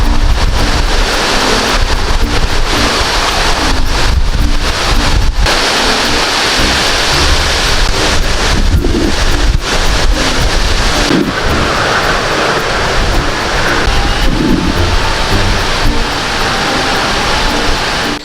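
Typhoon Agaton's wind and rain roaring outdoors, a loud, steady wash of gusting wind and heavy rainfall with buffeting against the microphone and no talk.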